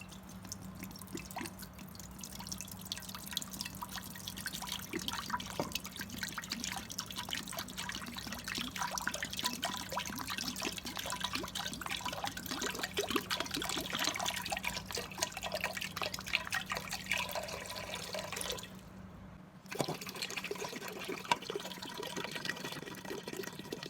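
Water trickling and dripping steadily into a cooking pot as two litres are added, a continuous close splashy flow that cuts off briefly near the end before resuming.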